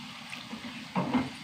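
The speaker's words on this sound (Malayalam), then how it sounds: "ശകലം വെള്ളം ഒഴിച്ചു കൊടുക്കും" A short splash of water poured into a cooking pan, faint and brief, rising out of a quiet kitchen background near the end.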